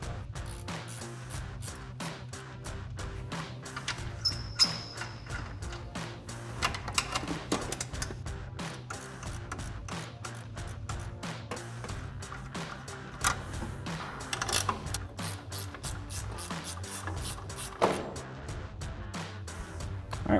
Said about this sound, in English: we're gonna grab our 14mm ratcheting wrench